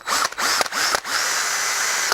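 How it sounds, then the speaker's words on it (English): A small drill bores into a car's wiper linkage crank, a close, steady whine that stutters with a few brief stops and restarts at the start before running continuously. "A small drill in the end of here."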